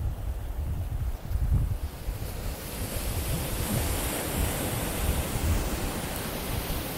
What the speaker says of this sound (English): Y'all listening to the waves like, you close to the ocean